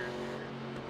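Race car engine under throttle in an iRacing simulation of the 1987 Winston Cup race at Rockingham, a steady droning hum held at constant pitch, brief and close with no talk.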